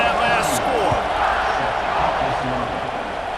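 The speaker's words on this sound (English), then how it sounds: "this crowd is buzzing after that last score" A stadium crowd at a college football game in the College Football 26 video game buzzes with a steady roar after a score, under a play-by-play commentator's voice.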